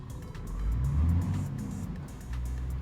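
An inline-six truck engine in Euro Truck Simulator 2 revs up and settles, a low throaty drone swelling mid-clip and easing back at moderate loudness.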